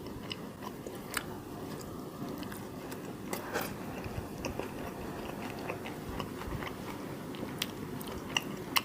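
Close, quiet biting and chewing on a Korean McDonald's Sriracha mayo burger, with soft crunches and wet mastication sounds repeating over several seconds and no talk.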